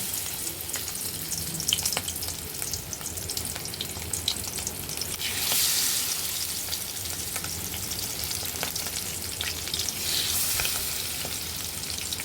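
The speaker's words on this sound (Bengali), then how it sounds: "এখন মাছগুলো ভেজে নিব আমরা এখানে মাছগুলো দিয়ে দিব" Hilsa fish frying in white oil in a wok, a close, steady sizzle and crackle with occasional louder surges of spattering.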